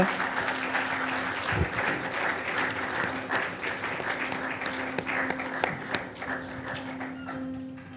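An audience claps steadily for several seconds, a dense patter of hands that thins toward the end, with a faint tone underneath.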